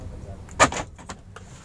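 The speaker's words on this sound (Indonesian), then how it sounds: "untuk switch remnya, switch pintu kita coba kunci" A Toyota Rush door is locked as a sharp mechanical clack of the lock actuator sounds, followed by a few softer clicks and a short whir, close by in a quiet setting.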